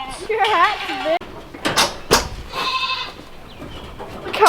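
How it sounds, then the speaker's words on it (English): Goats bleat in a muddy farm pen, a wavering bleat at the start followed by clanks and bangs like a door or gate, with people talking nearby. "Come on, goats."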